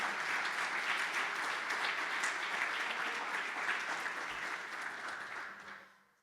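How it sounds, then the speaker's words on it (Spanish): A church congregation applauds steadily during a morning service, a dense even clatter of many hands that holds for several seconds and then fades out at the end. "Dale un aplauso al Señor si has recibido esa palabra"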